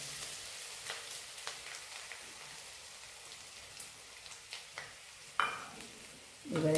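Coconut added to hot oil with cumin and mustard seeds on a low gas flame, giving a soft crackling sizzle with scattered pops and a few louder stirring clatters.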